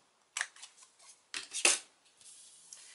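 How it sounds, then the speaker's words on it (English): Scissors snip the corners of designer series paper for a Valentine's gift card, a few short, crisp cuts close up with quiet pauses between. "I'm going to go ahead and trim the corners of this DSP as well."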